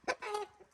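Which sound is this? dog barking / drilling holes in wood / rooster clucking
rooster clucking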